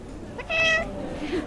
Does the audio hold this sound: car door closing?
no